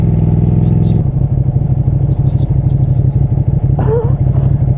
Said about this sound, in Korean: 그 오토바이 소리도 민폐 아니냐 이런 데서